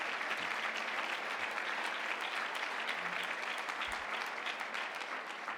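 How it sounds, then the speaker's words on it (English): Steady applause from a dinner audience at a chamber of commerce annual dinner, honoring board members; dense, even clapping fills the room for several seconds at moderate distance. "I just want to give them a round of applause."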